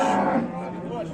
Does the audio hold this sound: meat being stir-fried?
no